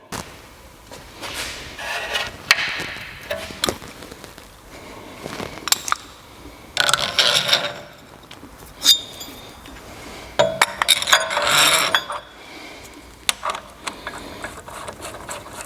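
A ball joint bushing press tool being fitted onto a BMW rear suspension, with bursts of metallic clinks, ratcheting and scraping at irregular intervals, close and fairly loud with quiet gaps between.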